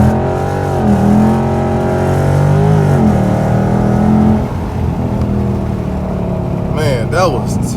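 A Dodge Charger Scat Pack in sport mode launches for a 0-60 run, its engine roaring loudly and rising through gears, steady and close inside the cabin, with a voice talking near the end.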